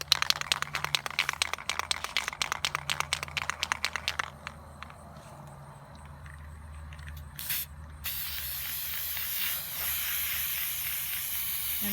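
Clear lacquer sprayed outdoors onto a laser-engraved piece: a run of short rhythmic spray bursts, then a quieter pause and a longer steady hiss near the end, close and fairly loud with no talking.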